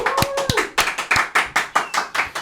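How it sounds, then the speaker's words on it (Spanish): A small audience claps for an invited guest, giving sharp, distinct, evenly spaced claps from a few nearby hands at a quick steady rhythm. "por favor, los aplausos"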